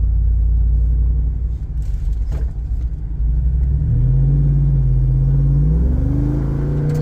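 A Jeep engine rumbles steadily at close range, with a low drone that rises and shifts in pitch as it accelerates while driving; no voices.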